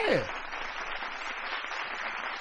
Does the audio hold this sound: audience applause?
yes